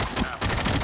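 Gunfire from a multiplayer shooter video game sounds in a rapid burst of quick, clustered shots, with a short break in the middle.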